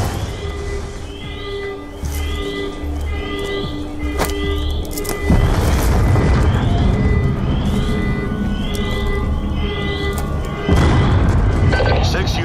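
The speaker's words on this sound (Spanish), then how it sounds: "Detectamos explosiones múltiples por todas las instalaciones." Multiple explosions across a facility in the video game Call of Duty Black Ops 2, with heavy booms and a rolling low rumble that swells and recurs, mixed with voices and game sounds.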